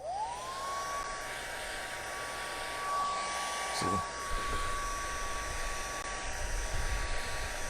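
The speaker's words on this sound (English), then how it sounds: "Look what happens when I turn on the hairdryer." A hair dryer blows onto thick wet paint during a children's art lesson, giving a steady, even whine that holds for several seconds, briefly interrupted by a soft bump, while a voice speaks once in the background.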